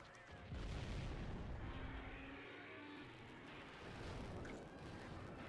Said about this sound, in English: cannons just fire so much faster here